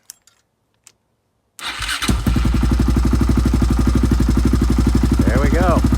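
A Yamaha Raptor 660 ATV engine starting without choke: a few faint clicks in near silence, then the engine catches abruptly and settles into a loud, fast, even idle putter, close up, with a brief squeal near the end.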